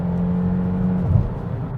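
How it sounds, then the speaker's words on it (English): Hyundai Tucson engine heard from inside the cabin under acceleration: a steady, fairly loud low hum and drone with a slight rise in pitch, continuous with no voices. "a significant amount of the engine sound makes its way into the cabin"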